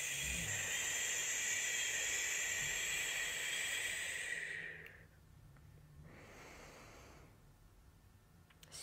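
A long, close exhale runs as a steady breathy hiss for several seconds during a relaxation exercise, then fades, followed by a second softer breath.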